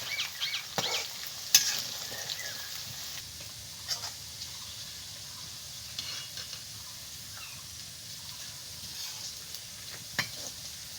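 Okra pieces for kurkure fry in oil over medium heat. A soft, steady sizzle is heard, with occasional clinks and stirring taps.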